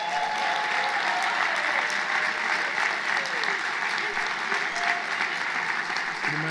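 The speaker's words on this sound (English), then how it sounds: "Give him a hand." An audience applauds the champion of the 2024 AWD Boot Camp at AWE Atlanta, a dense, steady wash of many hands clapping at moderate distance, with a voice speaking over it.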